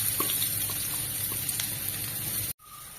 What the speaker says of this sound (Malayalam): അതിൽ കനം കുറച്ച് അരിഞ്ഞു വെച്ച സവാള ഇടുക.